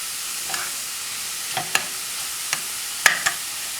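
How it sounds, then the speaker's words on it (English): Shrimp jambalaya ingredients with rice sautéing in a pan: a soft, steady sizzle broken by half a dozen sharp scrapes and clicks of a utensil stirring against the pan, close and fairly quiet. "Just let that saute just a little bit."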